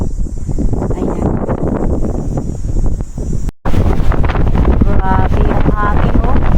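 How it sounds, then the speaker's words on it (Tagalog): Strong wind buffets a microphone on top of Golden Hill in Hong Kong, roaring and gusting loudly and steadily with a brief dropout midway. "It's too strong wind here on top of Golden Hill."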